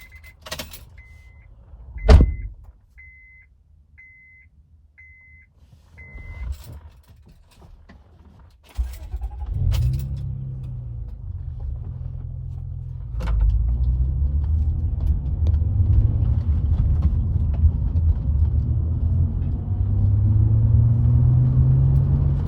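2006 Honda Accord EX V6 sedan with a six-speed manual: a few clicks and a thump give way to the engine starting, then a low steady rumble that rises and settles as the car pulls away and drives.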